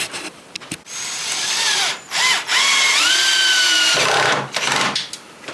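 A power drill drives screws into timber, whining up in two long bursts with short revving starts and pauses between, loud and close.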